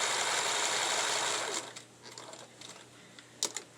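A sewing machine stitches a seam in a dense, fast whirring run that stops after about a second and a half, followed by quieter clicks and handling noises of the fabric being pivoted.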